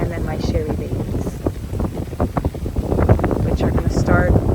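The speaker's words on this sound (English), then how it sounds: "Whoa, it is really windy, you guys." Strong wind blows outdoors in an orchid garden, roaring and buffeting loudly across the whole stretch and growing stronger toward the end, with faint bird calls in the background.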